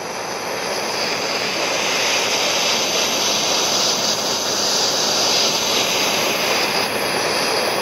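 A torch heats steel trailer pieces before tack welding to drive out moisture, producing a steady, loud, close roaring hiss that barely changes throughout.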